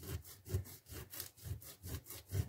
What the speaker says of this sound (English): I'm going to go back to the sandpaper just to make sure I've got more of a line against up until that bit